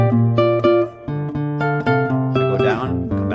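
Guitar plays a short section of a Halo 2 song with a hinge bar, clear plucked notes and chords ringing close and loud, changing in a steady rhythm.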